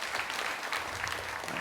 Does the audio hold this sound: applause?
yes